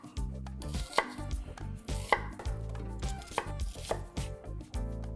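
Sharp, rhythmic knife chops through an onion on a cutting board, a dozen or so close, loud strikes at an uneven pace with louder accents, no talking.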